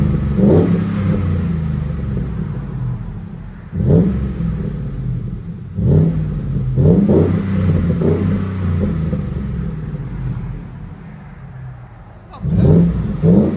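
A 2014 Ford F-150 with the 5.0L V8 and a 22-inch Magnaflow muffler idles with a deep, steady burble, broken by several sharp throttle blips that rise and drop back, close and loud.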